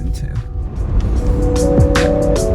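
A Jeep drives along a road in California, its steady engine and road rumble continuous throughout, with a rising tonal whine near the end and a voice talking over it.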